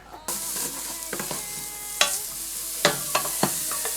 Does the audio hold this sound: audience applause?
no